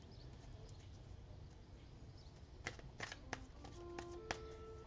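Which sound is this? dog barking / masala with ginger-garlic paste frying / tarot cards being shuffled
tarot cards being shuffled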